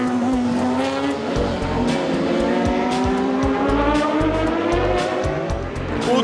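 A 1982 Porsche 956C race car roars on track at Spa, its engine note steady and loud with a rising tone, joined by faint tire squeal and other passing cars in the background.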